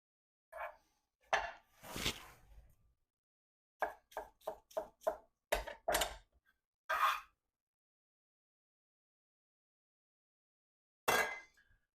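A knife chops through bell pepper for salsa on a cutting board, giving a burst of rapid, evenly spaced knocks followed by a few separate strikes, close and crisp, with no talking over it.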